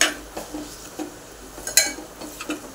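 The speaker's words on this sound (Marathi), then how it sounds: "जोपर्यंत त्याला सॉफ्टनेसपणा येत नाही तोपर्यंत आपण या परतून घेऊया." A spoon scrapes and taps in a pan as dates and dry fruit are sautéed over a low flame, several quick clinking stirs close by with a faint sizzle underneath.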